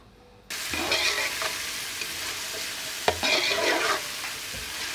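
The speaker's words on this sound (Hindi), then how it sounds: "हमारा प्याज फ्राई हो रहा है" Onions fry in hot cooking oil for chicken fried rice, a loud, close sizzle that starts abruptly, with occasional stirring scrapes and clatter.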